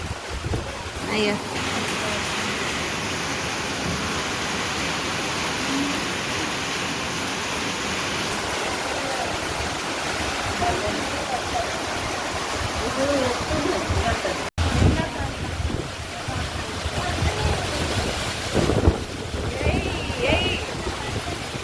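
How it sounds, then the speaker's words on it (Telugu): Heavy rain pours steadily near a hill temple, a loud, dense wash of noise that stays constant throughout with gusts like wind, while a voice speaks briefly over it. "బాగా అంటే బాగా కొడుతుంది వర్షం ఈరోజు."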